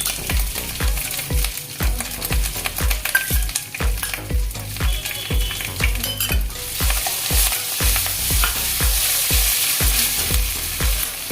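Cumin paste sizzles steadily in a hot pan while a utensil stirs it in regular, rhythmic scrapes, close and fairly loud with no voices.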